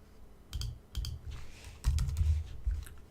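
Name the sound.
typing on a computer keyboard and hitting enter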